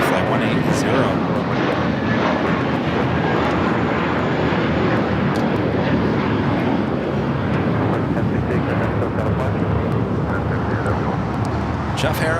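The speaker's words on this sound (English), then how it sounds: "That is Turkish A350 now pushing it back, heading back to Istanbul, flight 180." A Turkish Airlines Airbus A350 pushes back at Los Angeles airport bound for Istanbul, giving a steady, fairly loud engine rumble and hiss throughout, with some clicks and knocks over it.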